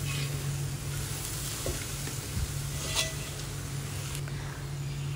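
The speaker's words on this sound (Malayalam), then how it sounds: "അതുകൂടെ ചേർത്ത് നന്നായിട്ട് ഇളക്കി യോജിപ്പിക്കാം." Flattened rice stirred in a pan with sesame, powdered sugar and cardamom, a soft continuous sizzle with occasional light scrapes of the spoon, close and fairly quiet over a low background hum.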